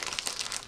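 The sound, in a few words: opening a plastic mailer package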